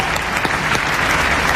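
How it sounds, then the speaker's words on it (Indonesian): A studio audience on a dating game show claps steadily in dense, continuous applause, loud and close, with no talking over it. "Kasih tepuk tangan buat Cici."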